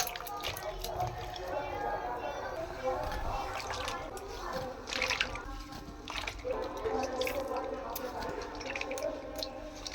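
Soaked soybeans are rinsed in water by hand, with continuous splashing, dripping and squishing sounds close by, while a person talks over much of it.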